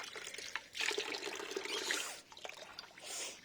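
Water trickles and splashes as hands are rinsed under a tap on a rooftop garden, a close, steady running flow with brief dips.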